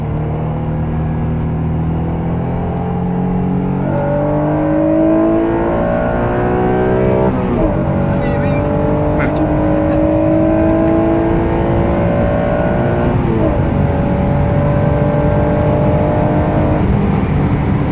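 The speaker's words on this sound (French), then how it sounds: "Le son du moteur est sympa." A Honda NSX sports car engine revs up and down repeatedly, its pitch climbing and dropping in loud, close sweeps with a brief gear-change dip.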